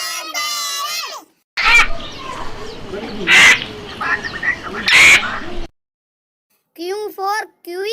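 Three harsh, loud parrot squawks sound in a children's alphabet song, set between sung phrases at the start and end.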